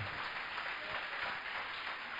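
A church congregation applauding at a testimony service, steady dense clapping from many hands throughout, moderately loud and without pause.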